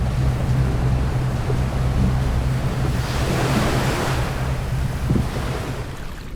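Huge ocean waves surge and break in San Sebastian Bay, Spain, a steady loud roar of surf with wind buffeting the microphone, continuous and close, with no voices.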